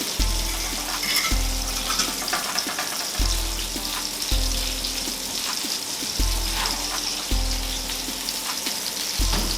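Meatballs sizzle and crackle steadily in hot oil in a pan, close and continuous, with a low periodic thump recurring about once a second under the frying.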